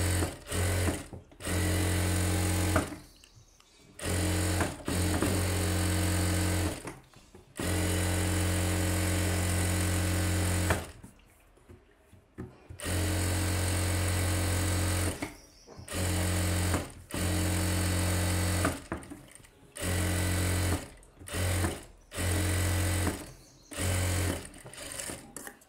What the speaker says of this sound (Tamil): இப்போ சுற்றி லைனிங்கை சுற்றி நம்ம ஒரு 1/4 இன்ச் கேப் போட்டு தையல் போடுவோம்